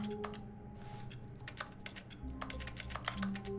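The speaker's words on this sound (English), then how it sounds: "Everywhere sounds like a keyboard." Clattering computer keyboard keystrokes fill The Stanley Parable office. The quick irregular taps layer over one another from several desks at once, over a low background hum, with no speech.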